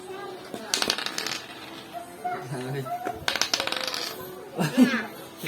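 Dice rattling and tumbling across a snake and ladder board during a family game at home, several sharp clattering bursts mixed with lively talk and chatter from the players.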